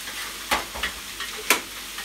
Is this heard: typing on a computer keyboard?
no